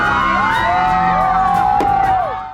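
Fireworks go off at a celebration with whistling, rising tones and a sharp bang, while a nearby crowd whoops and cheers loudly throughout.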